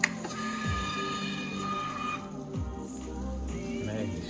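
A car engine cranks and catches, its low rumble rising and settling into a steady idle that continues to the end, with two surges of revving along the way; no one talks over it.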